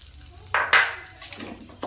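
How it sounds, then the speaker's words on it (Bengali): Bay leaf and black cumin seeds hit hot mustard oil on high heat, a short sudden burst of sizzle with a spatula clink, close up and brief. "তেজপাতা কালো জিরে ফোড়ন দিলাম,"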